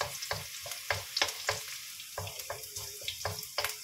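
Minced garlic dropped into hot oil sizzles steadily while a utensil stirs and scrapes the pan in rhythmic strokes, all close and clear, while cooking laing made from dried taro leaves.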